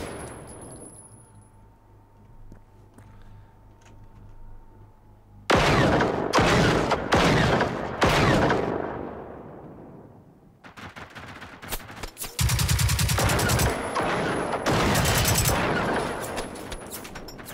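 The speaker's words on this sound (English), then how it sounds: "Hey, something is shooting me." Automatic and single-shot gunfire from the Generation Zero game, coming in dense loud bursts after a quiet ambient opening, with some sharp separate cracks and then a sustained rapid volley near the end.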